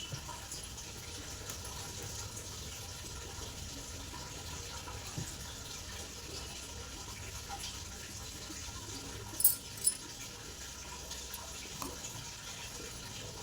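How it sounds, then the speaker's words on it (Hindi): Water runs steadily from a tap as a continuous, moderately loud hiss and gush, with a couple of brief clinks partway through; no one speaks. "उस पर ये पानी ऐसे निकल रहा है"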